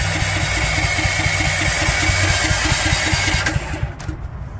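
Ford F550 engine cranking but not catching, a steady rapid chug of the starter turning it over for several seconds before it cuts off, no speech.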